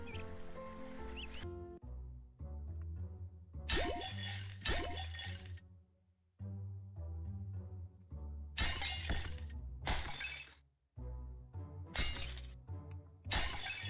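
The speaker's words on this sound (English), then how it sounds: "All of the pot smashing is really the only knowledge I have from any sort of Zelda game" Clay pots shatter in the video game Yono and the Celestial Elephants, a series of sharp breaking crashes with glassy clinks set against steady game music, with no talk.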